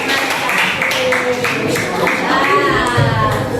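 A classroom of children claps in a brief burst of applause while a teacher keeps talking over it. Bright, patchy claps with chatter mixed in.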